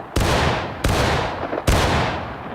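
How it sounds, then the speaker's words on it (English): Three loud, separate volleys of massed rifle fire in a War of Rights Civil War drill, each a sharp crack that rolls off into a long echoing tail, spaced under a second apart with no talking. "Firing, fire from the left."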